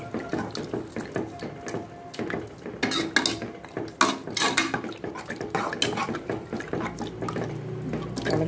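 A spoon clatters and scrapes in a pot of spiced Thongal kuzhambu mixed with garam masala, with uneven metallic knocks and wet stirring sounds. A voice talks over part of it.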